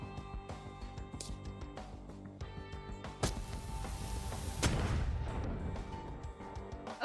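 Holala bombs going off in Honkai Impact 3rd, game audio: a sharp blast lands midway, followed by a second bigger, rumbling explosion that tails off, over a quieter bed of ticking, chiming game effects.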